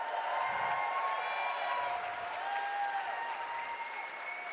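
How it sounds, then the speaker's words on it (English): Audience at a cosplay contest gives a steady, sustained round of applause, a dense wash of clapping that carries on evenly throughout, heard from within the hall with no talk. "One more huge round of applause"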